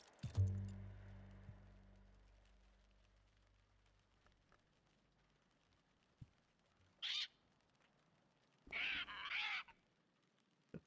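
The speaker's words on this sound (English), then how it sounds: "The parrot is upset with me." A parrot squawks in the video game Book of Hours: two short, harsh cries a couple of seconds apart over a very quiet background, after a soft low thud at the start.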